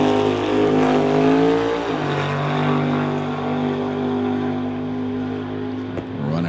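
A drag race car launching and running down the quarter-mile at an 8-second, 170 mph pass, its engine a loud sustained roar that shifts in pitch partway through and holds steady to the end.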